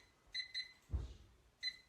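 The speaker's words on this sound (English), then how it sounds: "Setting the timer for 30 minutes." Kitchen timer being set for 30 minutes: three short electronic beeps, a dull low thump between them, then a final beep, close and fairly quiet.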